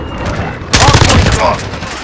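Rapid automatic gunfire erupts loudly in Call of Duty: Modern Warfare multiplayer, a dense burst of shots cutting in after a short quiet stretch amid chaotic battle noise.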